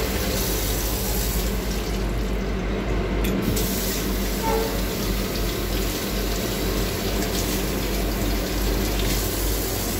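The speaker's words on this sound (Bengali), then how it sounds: "ভালো স্পিডে জল পড়ছে" Water runs steadily from a washbasin tap in the toilet of a Vande Bharat AC chair car train between Mysore and Bengaluru, a constant full-flow rush over the train's low rumble.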